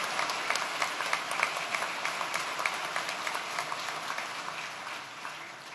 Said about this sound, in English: let's give that support structure a round of applause